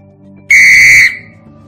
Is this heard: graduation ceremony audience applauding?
no